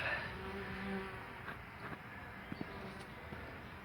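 A low, steady buzz of bees at a hive drones throughout, soft and continuous, with a few faint clicks and taps near the end.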